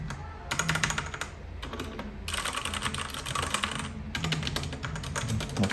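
A MageeGee 60% hot-swap mechanical keyboard with red switches is typed on in quick, close bursts of rapid key clacks, separated by brief pauses and heard alone.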